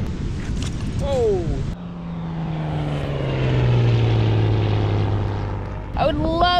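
A propeller seaplane drones overhead above a beach, its steady engine tone sliding lower as it passes, loud and close, with voices and a dog's noises briefly at the start and end.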